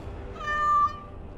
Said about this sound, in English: Little kitty there makes me want to vomit.